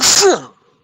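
A single sharp sneeze, loud and close, with a quick breathy burst that fades out within half a second.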